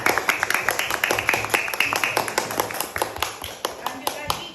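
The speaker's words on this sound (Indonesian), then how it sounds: "tepuk tangan dulu kelompok 1" Classroom group clapping for the first student group, a run of sharp, fairly close claps that start brisk and thin out toward the end, with some talking mixed in.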